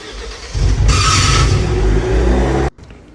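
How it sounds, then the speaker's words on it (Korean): A car engine cranks and starts after long parking, a JSG70 with a suspected faulty starter motor pinion, giving a loud steady rumble with a brief harsher noise near the start before it cuts off abruptly. "JSG70 장시간 주차 후에 첫 시동시 이상 경음 발생 현상으로 입고되었습니다."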